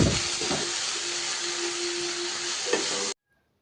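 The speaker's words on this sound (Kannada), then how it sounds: "ಈಗ ಫ್ರೈ ಮಾಡಿ ಎತ್ತಿಟ್ಟಿರೋ ಹಾಗಲಕಾಯಿನ ಹಾಕೊಳ್ಳಿ ಹಾಗೆ ಸ್ವಲ್ಪ ಫ್ರೈ ಮಾಡ್ಕೋತಾ ಇರಿ" Fried bitter gourd pieces frying in a pan, a loud continuous hissing sizzle with a faint steady tone running through it, cutting off abruptly near the end.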